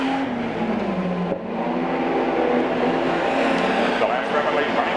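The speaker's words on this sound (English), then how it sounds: "Ford Cortina across the start finish line." Red Ford Cortina race car at Archerfield Speedway's 1997 handicap race roaring across the start-finish line, a loud sustained engine drone with a commentator talking over it.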